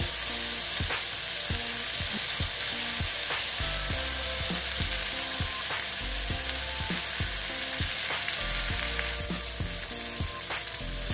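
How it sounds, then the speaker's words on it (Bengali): Potatoes frying in a pan for a vegetarian ridge gourd and moong dal dish, a loud, constant sizzle with a regular knock of the spatula and stirring scrapes, under steady background music. "আলুটা প্রায় অনেকটাই ভাজা হয়ে গেছে।"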